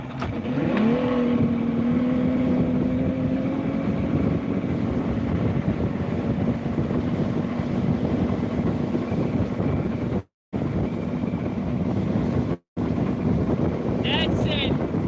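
An outboard boat engine drones steadily and loudly with a rising tone at the start, mixed with heavy wind buffeting and a couple of brief dropouts, and voices come through now and then.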